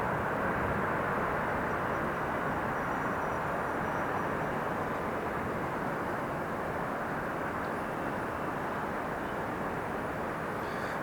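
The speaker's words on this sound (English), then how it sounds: "Take off on runway 24 right on their way to Honolulu." Delta jet airliner taking off from runway 24 right at LAX bound for Honolulu, a steady, broad engine roar that holds loud and constant throughout with no speech.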